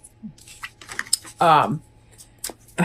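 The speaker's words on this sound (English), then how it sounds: "I am shuffling right now our Animal Wise Tarot" An Animal Wise Tarot deck being shuffled gives scattered light, crisp card clicks and flutters, close by, with a person speaking briefly in between.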